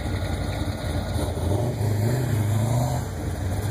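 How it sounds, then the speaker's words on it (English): A Pontiac Firebird rolls in at a car show with its engine rumbling low and steady, a throaty tone that swells slightly midway over outdoor background noise. "A little Firebird coming in."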